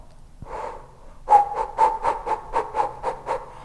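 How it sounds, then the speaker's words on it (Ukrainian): Rapid, rhythmic breath of fire pumped through an open mouth during kundalini yoga, with about ten forceful, evenly spaced huffs following a softer opening breath. The sound is close and loud, with no talking. "дихаючи дихання вогню відкривши рот буквою О"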